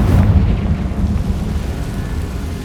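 A Confringo fire-spell blast in Hogwarts Legacy, a heavy low rumbling boom that swells at the start and then rolls on as a dense, fading low-pitched roar.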